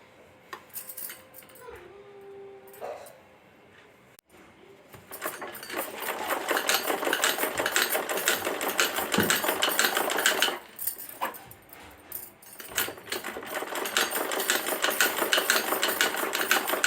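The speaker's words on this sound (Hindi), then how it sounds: "ये सिलाई लगाने के बाद हम यहाँ पर किनारे पर दूसरी सिलाई लगा लेते हैं।" A sewing machine stitches along the fabric edge of homemade underwear, running in a steady close whir for long stretches with brief pauses and a short quieter start, with no voices.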